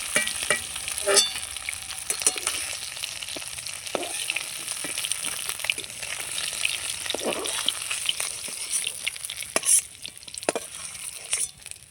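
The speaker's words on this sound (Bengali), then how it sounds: "মাছগুলো আমার লাল লাল করে ভাজা হয়ে গেছে" River fish fry in hot oil with a steady, dense sizzle, broken by occasional scrapes and taps of a spatula stirring in the pan.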